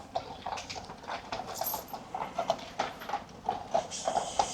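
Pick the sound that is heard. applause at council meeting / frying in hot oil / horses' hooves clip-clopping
horses' hooves clip-clopping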